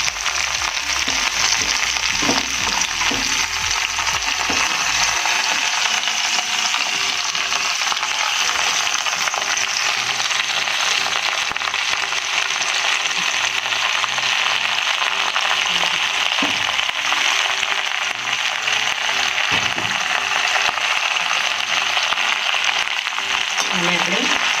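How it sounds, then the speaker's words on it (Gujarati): Okra (bhindi) coated in oil and masala fries in a pan, giving a steady, even sizzle that runs throughout with occasional stirring scrapes and clicks. "પ્રોપર આપણા બધા ભીંડાના તેલ અને મસાલો ચોંટી ગયા છે એટલે ભીંડા સારી રીતે આપણે ફ્રાય કરી દઈશું"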